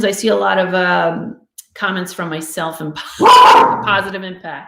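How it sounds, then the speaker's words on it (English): A pet dog barks in short bursts indoors, close and fairly loud, overlapping a person talking to the camera. "Excuse my dog."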